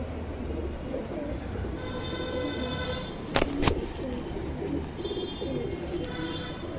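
A male fulshira pigeon coos softly against steady background murmur, with a brief sharp clatter in the middle of the cooing.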